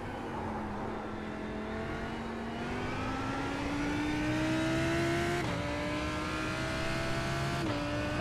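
A Lamborghini GT3 race car in iRacing at Daytona Road holds a loud, continuous engine drone whose pitch climbs steadily through the gears, broken by two quick upshifts, with no talk over it.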